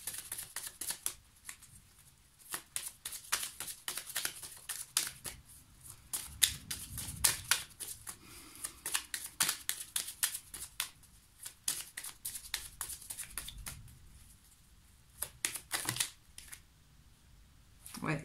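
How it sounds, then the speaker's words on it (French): Playing cards are shuffled quickly in close, rapid riffling bursts of crisp flicks and snaps, repeating in clusters with brief pauses across the whole stretch, quite faint and without talk. "pendant que je battais les cartes très vite"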